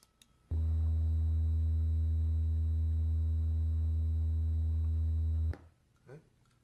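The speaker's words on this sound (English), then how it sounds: "I'm going to play 3 different sounds. They're all at 80 hertz." A steady 80 hertz test tone representing wind turbine noise drones low and constant for about five seconds, starting and stopping abruptly, with quiet room sound around it.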